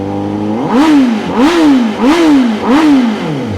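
A Honda CBR 1000 RR-R SP motorcycle engine, blipped four times in a steady rhythm, each rev rising sharply in pitch then dropping back to idle; loud and close, with no talking.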